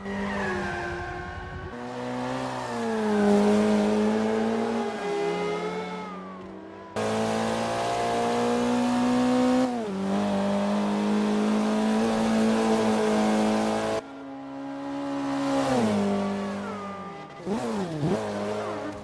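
Race car in Forza Motorsport 5 lapping the Nürburgring, its engine revving hard through rising and falling gear changes, with tire squeal on corners, loud and continuous across several cut segments with no voices.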